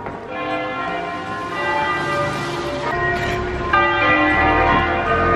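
Church bells in Italy ring steadily and loudly with rich overlapping tones, a continuous peal that swells slightly partway through, with no voices.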